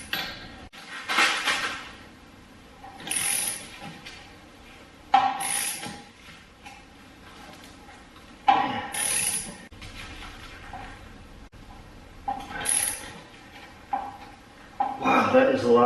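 Metallic ratcheting and clanks come from an 18 mm axle puller as it is tightened against a seized axle in an R32 GTR hub, with intermittent close clicks and clinks between pauses and someone talking quietly.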